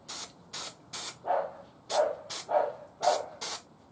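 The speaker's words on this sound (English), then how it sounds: "I'm just going to use a bit of this spray glue." Aerosol contact spray glue sprayed from a can in a workshop: eight short, sharp hissing bursts in an uneven rhythm, each with a brief trailing hiss, heard close and with no talk.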